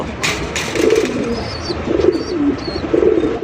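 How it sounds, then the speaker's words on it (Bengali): Close, soft cooing from a pair of Bombay pigeons in low repeated rolling phrases, several calls in a row with a faint chirp in the background. "এখানে হচ্ছে একজোড়া বোম্বাই কবুতরের কালেকশন দেখতে পাচ্ছেন"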